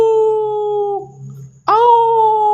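A human voice imitates a wolf howl: a long, steady tonal howl that breaks off, then, after a brief pause, a second, louder howl that rises in pitch.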